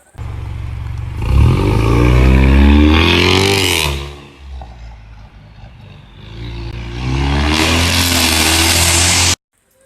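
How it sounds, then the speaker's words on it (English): A Ford EcoBoost car with a raspy exhaust revs up hard and loud, pauses briefly, then revs again in a long harsh drone before cutting off, with no talking. "this is what's gonna stop it from being raspy and sounding like those Florida EcoBoosts"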